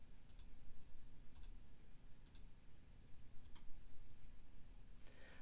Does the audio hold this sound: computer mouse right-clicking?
yes